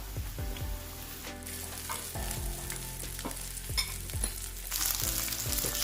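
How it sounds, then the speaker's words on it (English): Mushrooms fry in a hot pan for beef stroganoff, a continuous close sizzle with stirring and scraping sounds and a few faint clinks, without talk. "Now this pan is hot, time for the mushrooms to go in."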